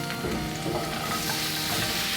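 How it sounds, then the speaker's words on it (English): Onion and garlic sauté in warm olive oil in a pan, a steady close sizzle and crackle with faint stirring, no voices. "There's nothing better than fresh onion and garlic sauteing."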